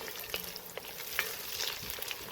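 Oil and clarified butter sizzle in a pan for a Nepalese chicken curry, a close, steady crackle with scattered pops and faint stirring, no talk.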